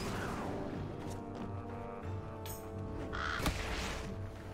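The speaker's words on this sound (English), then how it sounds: "Just a bunch of birds. Thunderhawks." Thunderhawk birds in the video game For The King give harsh, crow-like caws, several calls scattered over a backdrop of game music and ambience.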